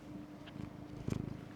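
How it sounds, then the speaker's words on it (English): Sebastian the cat purring softly and close by, a faint, low, steady rumble with gentle rhythmic pulses that swell slightly toward the end, with no talking. "He's purring, can you hear him?"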